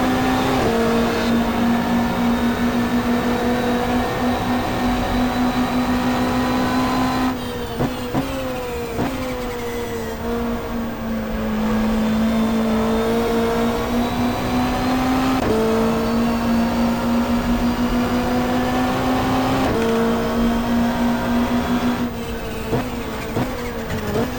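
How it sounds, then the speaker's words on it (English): Super touring race cars, BMW M3s and a Ford Sierra, lap Symmons Plains circuit in the 1995 Australian Super Touring Championship, their engines droning loudly and steadily with repeated rising and falling revs through gear changes, close and continuous. "It'll be either one of the BMW M3s or Bob Tweedy's Ford Sierra number 79"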